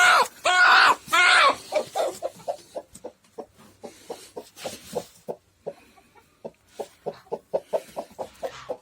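Broody hens cluck in a coop: a few loud squawks at first, then a long series of short, quiet clucks in an uneven rhythm, with some speech near the start.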